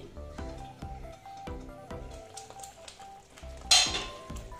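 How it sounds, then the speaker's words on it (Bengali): Metal clinks and taps ring out at a steady rhythm from a cooking pot of egg and spinach. A brighter scrape and clatter near the end sounds like the lid being lifted off. The sounds are close and moderately quiet, with no talk. "আমি ঢাকাটা খুলে দেখে নিচ্ছি"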